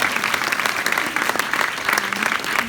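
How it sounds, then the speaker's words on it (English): Audience applause at a community awards ceremony, a steady dense clapping from a roomful of people sustained throughout at moderate loudness, with no talking over it. "So I would just like to have an applause for them as well."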